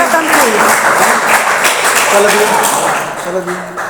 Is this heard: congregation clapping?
yes